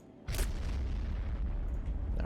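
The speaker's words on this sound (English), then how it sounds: "See if we can throw some AT grenades on these." An anti-tank grenade explosion in the World War II strategy game Men of War: Assault, set during the 1942 Dieppe raid, lands with a sudden loud boom followed by a low rumbling tail.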